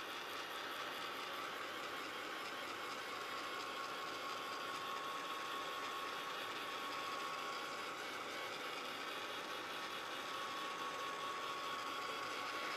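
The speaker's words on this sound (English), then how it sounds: "So just take the heat tool and dry it." A heat tool dries paint on a craft plaque with a continuous, even high-pitched blowing whir and a faint tonal whine, steady and close, with no talk.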